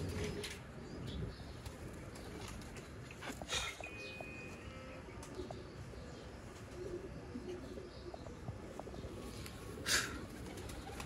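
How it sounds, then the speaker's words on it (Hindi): Soft pigeon coos sound faintly among quiet outdoor background noise, with a few brief rustles and wing flutters. "वाइट कांटों वाले कबूतर"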